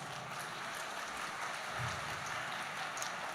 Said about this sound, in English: I think the BrandLaureate deserve a big round of applause.